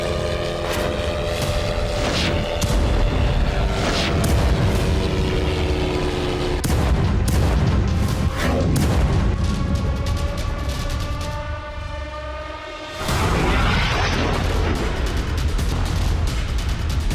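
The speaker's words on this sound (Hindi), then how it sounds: "देखिए कैसे नेतन्याहू के घर पर हमला और कैसे बेरूत पर बरसे इजरायली बम" Israeli bombs exploding over Beirut during an air strike on Lebanon, heavy booming blasts and rumbling concussions that repeat through the clip, with roaring, echoing aftermath noise between the strikes.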